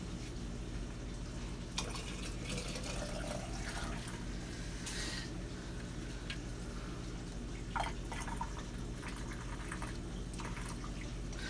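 Broth being poured into a glass canning jar during pressure canning, heard as soft intermittent dripping and liquid splashes over a steady low background hum, fairly quiet and close.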